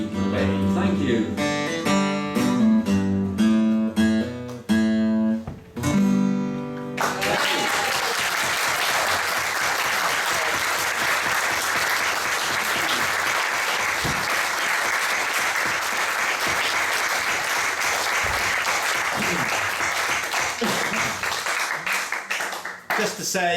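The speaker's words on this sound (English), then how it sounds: "Big round of applause." A blues jam closes with a few final chords, then an audience breaks into sustained, loud applause with cheering that carries on steadily to the end, while voices can be heard beneath the clapping.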